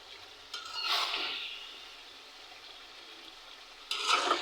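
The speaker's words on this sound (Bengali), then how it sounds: "দেখুন আস্তে আস্তে কীভাবে ভাজা ভাজা হয়ে যাচ্ছে। আমি কিন্তু কোনো পানি ব্যবহার করিনি।" Broiler chicken pieces fry dry in a pan without water and are stirred. Two swelling bursts of sizzling rise and fade with stirring, and a quieter hiss lingers between them.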